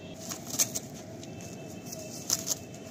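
A pair of pigeons released from a loft beat their wings in two brief, quiet bursts of flapping, set against a soft, steady outdoor background.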